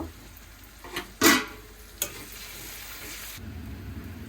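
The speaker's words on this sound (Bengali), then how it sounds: "এখন দেবো গরম মশলা তেজপাতা এলাচ দারচিনি স্টার মশলা লবঙ্গ" Whole garam masala (bay leaf, cardamom, cinnamon, star anise and cloves) drops into hot oil for chicken curry, giving a few sharp crackling bursts, then a steady soft sizzle with no talking.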